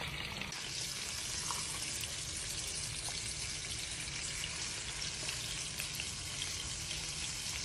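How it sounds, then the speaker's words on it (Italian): Octopus tentacles fry in garlic and oil in a pan, giving a steady, close, bright sizzle and crackle that runs without pause the whole time, with no talking. "e adesso li fate soffriggere fino a che diventano rosso"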